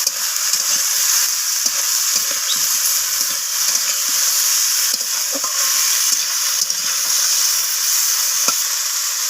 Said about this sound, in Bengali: তো বেগুনগুলোকেও আমি নাড়াচাড়া করে নিচ্ছি সব কিছুর সাথে